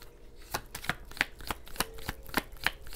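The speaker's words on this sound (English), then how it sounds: "One shuffle with this deck." Tarot cards riffle and snap in quick irregular bursts, a deck being shuffled close by with no talking.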